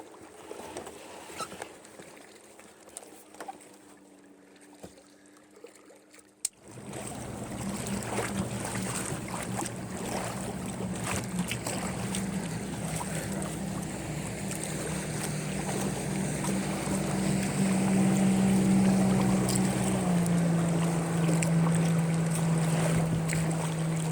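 Boat motoring on Lake Keowee, South Carolina: after a quiet start a steady engine drone kicks in and holds, mixed with wind buffeting and water rush, close and fairly loud with no talk.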